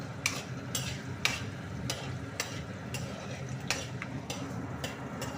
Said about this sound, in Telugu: ఆనియన్స్ కూడా ఫ్రై చేసుకుంటున్నాం.